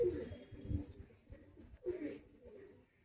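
Close, soft cooing from Madrasi pigeons kept for sale, two low rolling coo phrases separated by a short pause, with no voices over them.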